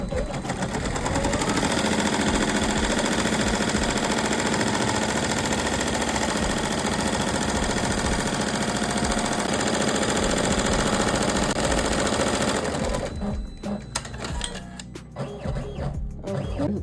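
A Happy embroidery machine stitches a patch outline with a loud, fast, continuous mechanical chatter that runs for about thirteen seconds, then slows into sparser, uneven clicks as it stops.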